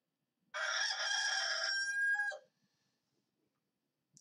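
A rooster crows once, a loud, close cock-a-doodle-doo lasting about two seconds, followed by near silence.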